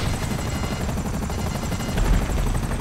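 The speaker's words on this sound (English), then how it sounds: "Two more helicopters." Helicopters in GTA V Online fly close by with a loud, steady rotor thump and engine roar that fills the scene without pause.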